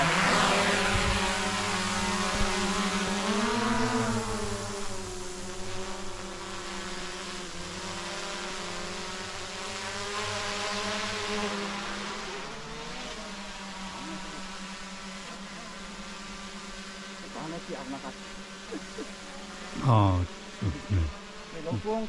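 A drone lifts off on an automatic mission over a forest road slope, its propellers giving a loud steady buzzing whine that shifts in pitch as it climbs, with a few bumps near the end.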